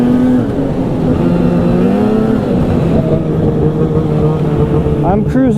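Steady droning engine of an Arctic Cat Riot X snowmobile cruising along a trail at around 40, holding a constant pitch with slight shifts, loud and close throughout.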